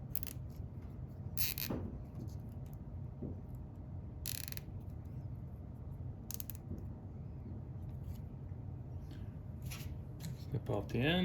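Sharp clicks of flush cutters snipping off small zip tie ends on a Creality Ender 3 extruder wiring harness, several crisp snips spaced apart under faint room noise and a low voice.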